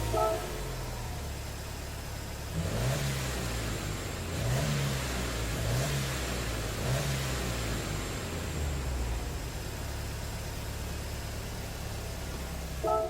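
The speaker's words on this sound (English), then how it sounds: "I prefer how the cars sound engine-wise. You've got that boxer 4-cylinder" A Subaru boxer four-cylinder engine in Gran Turismo 7 drones steadily with a hissy, noisy roar, and several rhythmic rev pulses and gear changes come in the first half.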